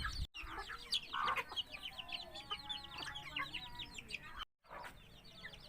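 A flock of many chickens clucking and chattering close by, a busy overlapping chorus of short calls with a brief gap partway through.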